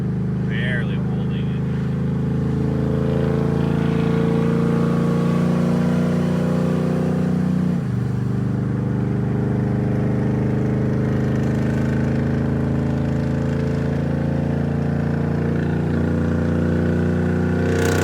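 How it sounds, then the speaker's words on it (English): Steady loud engine drone from a Dodge RAM truck with a swapped HEMI V8 climbing a hill while towing a trailer, the pitch dipping slightly midway, heard from inside the cab. "going up a little bit of a hill with the trailer behind us."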